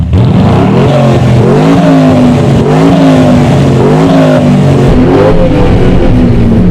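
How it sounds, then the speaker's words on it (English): A loud turbocharged Aston Martin engine revs repeatedly, rising and falling in pitch with each blip of the throttle, close and continuous without any talking. "Matt, let's have a listen to your car with turbochargers and stuff."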